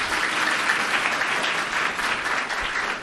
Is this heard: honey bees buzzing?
no